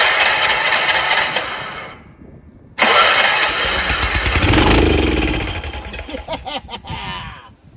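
A Craftsman rear-engine riding mower's small engine cranks, cuts out briefly, then catches and runs loudly nearby with a steady, buzzy chug before winding down, running only on starting spray.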